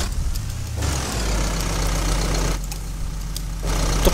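A Sonalika 60 DI tractor engine runs in Farming Simulator 22, a steady low mechanical drone with a throbbing idle character. It stays loud and continuous throughout, with no voices over it.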